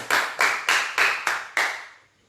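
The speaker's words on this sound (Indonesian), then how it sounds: "Kasih tepuk tangan buat Tuhan kita." A church congregation at an Easter service claps hands in unison, six loud, evenly spaced claps each ringing out briefly before the last one fades away.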